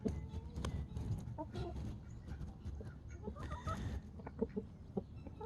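Brahma chickens cluck softly on a farm amid faint background noise, scattered low clucks and a few sharper calls coming and going, fairly quiet and with no one talking.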